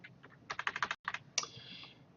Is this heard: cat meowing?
no